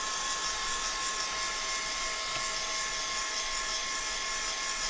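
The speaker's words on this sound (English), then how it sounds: "let's just give this a little bit of a blast dry" A blast dryer blows a continuous loud, even whoosh with a high whine while drying a painted laser-cut wooden birdhouse, steady throughout with no voices.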